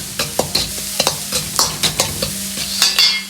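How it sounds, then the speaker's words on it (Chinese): Aromatics and pepper-salt seasoning stir-fried over medium-low heat in a wok for salt-and-pepper prawns, with repeated sharp scrapes and clatters of the spatula over a steady sizzle, close and fairly loud, no talk. "保持中小火煸炒出香味。"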